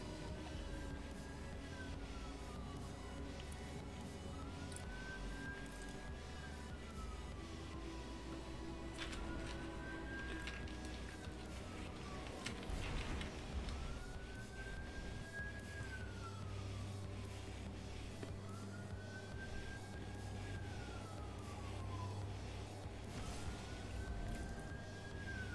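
An emergency vehicle siren wails outdoors at a distance, rising and falling in a slow repeating sweep over a low rumble of traffic, faint but steady for the whole stretch.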